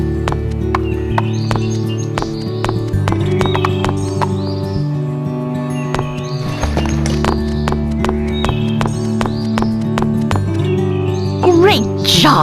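Horse hooves clip-clop in a steady trotting rhythm along a trail in the PlayStation 2 game Barbie Horse Adventures: Wild Horse Rescue, layered over looping game music with bird chirps, ending in a brief swell of sound.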